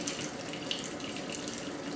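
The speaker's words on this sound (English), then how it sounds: "Now you want cold water." Cold water runs steadily from a kitchen tap for pie dough, a continuous close hiss and splash filling the whole stretch with no talk.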